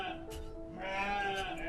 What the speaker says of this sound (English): Oh, there's a little lamb.